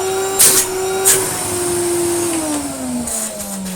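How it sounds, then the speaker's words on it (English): A Moulinex E59 vacuum cleaner runs steadily and close, its motor whine slowly dropping in pitch, with a couple of brief louder bursts of air rush near the start and again toward the end. "Hey, that's got some airflow to it. Let's do some vacuuming."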